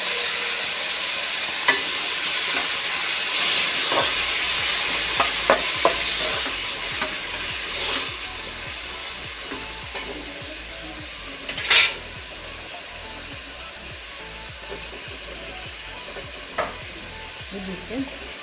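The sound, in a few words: tomatoes, garlic and ginger frying in a pan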